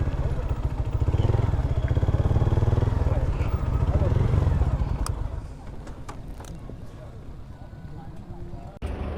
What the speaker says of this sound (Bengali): কত বাইকার আসছে, ক্যান ইউ ইমাজিন?